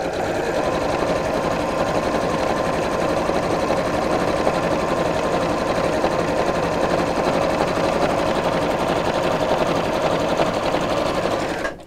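A sewing machine stitches a seam in white thread for a storage box, running with a fast, even mechanical whir close up and without pause until it stops abruptly at the end.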